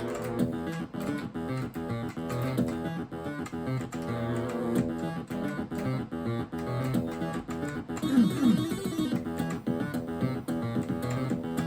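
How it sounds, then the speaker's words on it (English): Dense synthesized game music from a Sound Blaster sound card in a Pentium II computer, with chiptune-style tones and bleeping sound effects playing continuously, a brief zapping effect breaking through midway. "does indeed sound like a Sound Blaster"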